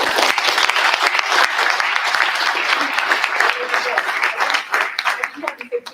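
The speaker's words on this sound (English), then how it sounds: "Please give them a last round of applause." Closing round of audience applause at a Capitol Hill policy briefing, loud dense clapping from a roomful of people that holds steady and then thins out toward the end as voices emerge.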